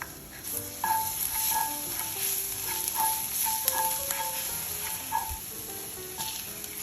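Ginger and minced garlic sizzle and fry in hot oil, with a steady crackle and occasional stirring clinks from a utensil in the pot.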